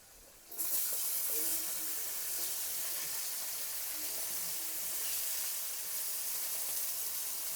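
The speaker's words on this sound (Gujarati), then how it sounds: "ડુંગળીને આપણે ઘડીક વાર પાકવા દેવું" Onions sizzle steadily in hot oil for a Maggi noodle dish, seasoned with coriander-cumin powder. A loud, continuous frying hiss bursts in abruptly and holds evenly close by, with no voices.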